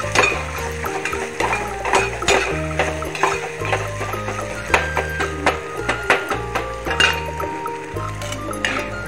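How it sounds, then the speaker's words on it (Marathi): Peanuts with half a spoon of salt are stirred and roasted in a pan, giving repeated scraping and metallic clinks of the spoon with a faint sizzle, near and steady without talk. "आणि आता यामध्ये अर्धा चमच मीठ टाकून घेणार आहे। हे चांगल्या प्रकारे परतून सुद्धा घेणार आहे।"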